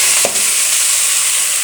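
Gourd, eggplant, potato and bean pieces sizzle steadily in a hot pan with a brief scrape of stirring near the start, a constant close frying hiss with no talking.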